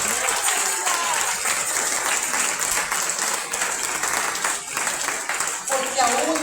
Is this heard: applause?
yes